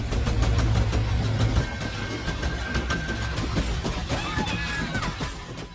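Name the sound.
tractor engine left running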